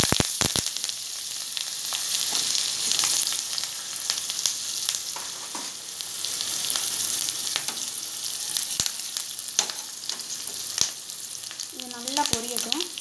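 Green chillies and curry leaves frying in hot oil for curd rice tempering, a continuous close sizzle with occasional crackles and spoon stirs.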